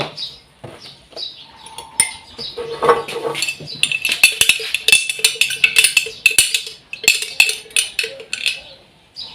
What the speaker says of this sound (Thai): เดี๋ยวเราเอาใช้ช้อนตักเอา